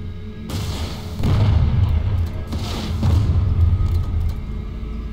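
ASP 30 Grounder rocket launcher rockets striking a vehicle in a video game: a loud booming impact, then two more heavy blasts about two seconds apart, each rolling into a deep sustained rumble.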